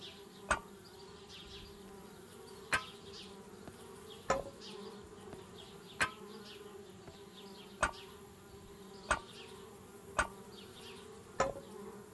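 Bees buzz steadily around a treehouse in the adventure game Anna's Quest, a continuous insect drone with a regular series of sharp clicks or taps recurring about every two seconds over it.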